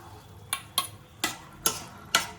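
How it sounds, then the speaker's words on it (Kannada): Boiled chickpeas are stirred into a mixture for channa chaat, with five distinct scraping clicks of a utensil against the bowl at uneven intervals, close and fairly quiet, with no talk. "ಇವಾಗ ನಾವು ಬಾಯ್ಲ್ ಮಾಡಿಟ್ಟಿರುವಂಥ ಚೆನ್ನನ ಹಾಕಿ ಮಿಕ್ಸ್ ಮಾಡಬೇಕು."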